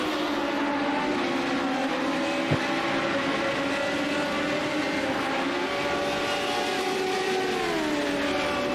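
Race cars lapping the Okayama circuit in iRacing, a steady loud blend of droning engines with pitch slowly rising and falling as they shift, one car's rear end badly damaged, a brief sharp click partway through.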